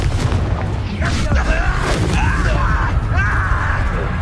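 A Confringo fire spell is cast during a Hogwarts Legacy battle, giving heavy booming blasts and crackling bursts over a dense, continuous din of combat, with voices speaking on top.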